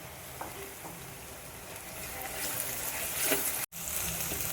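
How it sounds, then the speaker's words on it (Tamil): Ginger garlic paste frying in a pan for a village-style chicken kolambu, a steady soft sizzle with faint stirring clicks and a brief cut near the end. "பாருங்கள், இஞ்சி பூண்டு வதங்கியாச்சு."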